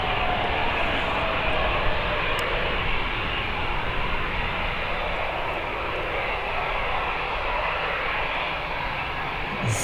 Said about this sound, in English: Nice little Airbus.